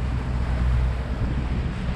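Waves about a foot and a half to two feet high slap against a sailing boat on Lake St. Clair. Wind buffets the microphone in a steady, close, rumbling roar with no voices.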